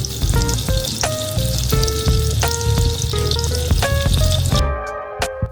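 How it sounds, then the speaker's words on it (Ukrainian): Loud oil sizzling and crackling steadily as fritters fry in a pan, with scattered pops and tinny clinks, cutting off abruptly near the end. "смажимо на олії або в вершковому маслі"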